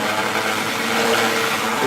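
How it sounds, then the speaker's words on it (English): A hand blender purees cooked vegetable soup in a pot, a steady loud whirring drone throughout, close and continuous with no talking. "we're going to blend that with our hand blender"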